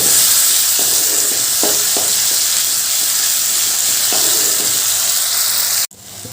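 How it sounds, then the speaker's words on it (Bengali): Tomato, ginger and green chili paste sizzles steadily in hot oil, with a few soft stirring scrapes of a spoon in the pan, before the sound cuts off abruptly near the end. "এবার এটা ভালো করে তেলের সাথে কষে নেব"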